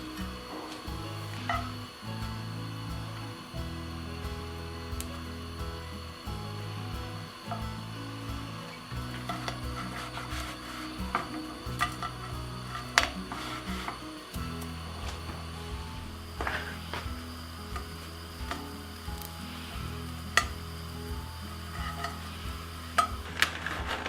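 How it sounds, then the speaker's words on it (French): Bread slices drizzled with olive oil toast in a pan, a soft continuous sizzle with scraping and stirring sounds, while a low tonal hum of background music runs beneath throughout. "Vous pouvez les griller dans le four ou dans une poêle."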